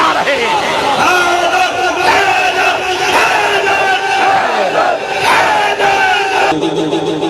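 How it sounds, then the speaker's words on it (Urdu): A crowd at a Jashan-e-Molood-e-Kaba celebration for Imam Ali loudly chants Haidar slogans in unison, a dense, continuous roar of many voices with shouting throughout. "یہ جو حیدر حیدر کے نعرے لگا رہے ہیں"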